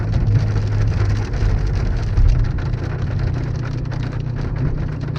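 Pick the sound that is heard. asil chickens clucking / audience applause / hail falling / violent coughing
hail falling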